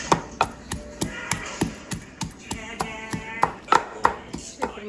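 Cucumber chutney pounded into a smooth paste, a run of regular hard thuds from the pounding, close and distinct, roughly three to four strikes per second, with no talk.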